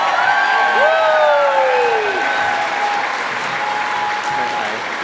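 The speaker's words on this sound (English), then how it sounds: "Please give her a huge round of applause" Loud applause and cheering from a gala audience welcoming a co-host at a 50th anniversary Hearts of Gold celebration, filling all five seconds with dense clapping, whoops and a few whistles rising above the crowd.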